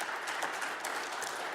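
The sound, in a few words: audience applause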